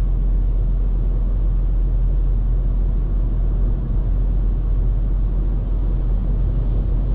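A 2019 Volkswagen Polo 1.0 TSI engine hums steadily in fifth gear below 2000 RPM, a constant low cabin drone with road rumble and no speech.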